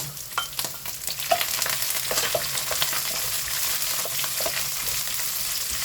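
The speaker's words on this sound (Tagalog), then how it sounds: "Ayan, nalagay na natin yung bawang guys, garlic. Ilagay na natin ang ating onion." Garlic and onion sizzle in a pan, a dense continuous crackle and hiss with scattered small pops and occasional stirring scrapes, close and steady, without speech.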